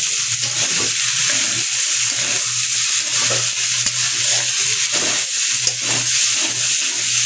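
Vegetable bhaji fries in a pan with a constant close sizzle, while a utensil scrapes and stirs it in an irregular rhythm.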